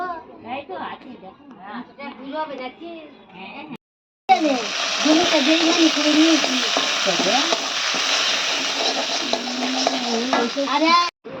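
Taro pieces frying in a pan for a Bengali prawn-and-taro lunch, a loud, steady sizzle after a brief pause, with someone speaking before and over the frying.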